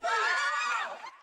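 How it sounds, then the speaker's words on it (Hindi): A person lets out a loud, sudden shout or scream, close and piercing, lasting about a second before trailing off. "ए, तू क्यों चिल्लाया?"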